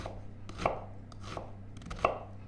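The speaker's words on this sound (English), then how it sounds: "Then we first cut in big chunks" A knife chops half a red onion into big chunks for a lentil pasta sauce. Three or four sharp, close chopping strikes land on the board at an uneven pace, with no talking.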